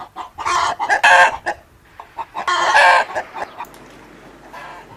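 Free-range hens on an Aberdeenshire farm cluck and squawk up close, loud bursts of clucking and a rooster-like crowing call rising and falling, then fading to quieter farmyard background.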